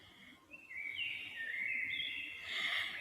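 Bird chirps and twittering sound close by in a quiet indoor setting during a meditation session, a steady run of bright calls lasting several seconds with no talk.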